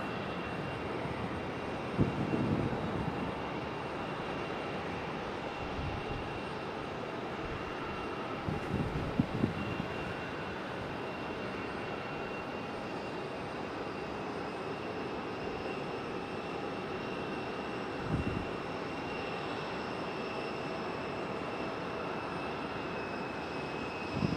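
An ATR turboprop airliner arriving on runway 5 at Raleigh-Durham airport, a broad, steady engine roar heard from a distance that holds level for the whole stretch, with a few faint bumps nearby.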